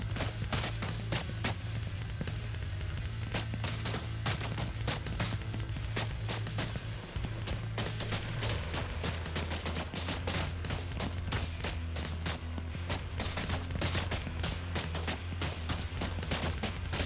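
Rapid, continuous enemy gunfire in a third-person shooter game rattles steadily for the whole stretch, dense repeated shots over a low droning background.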